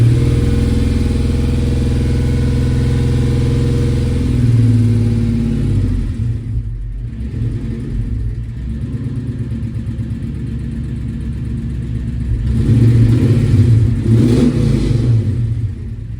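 A Dodge Challenger 392 Hemi V8 idles loudly up close, then blips through several sharp revs with pauses between, the deep burble rising and falling alone without talk.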